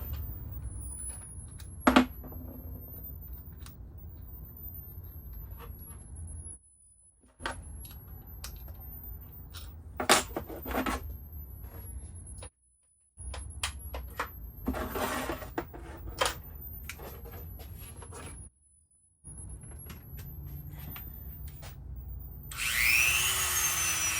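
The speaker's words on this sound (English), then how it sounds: "I'm taking my Dremel tool, and I have a little sandpaper guy on here" A Dremel rotary tool with a small sandpaper attachment sands a painted floral design on a wooden cradle board, giving a steady close whirring rasp broken by several brief pauses and light taps.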